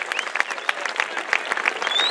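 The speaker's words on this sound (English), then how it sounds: "Big round of applause for these young scholars." A crowd claps steadily at a high school graduation ceremony, a dense patter of hands with a few whoops and cheers mixed in, filling the room.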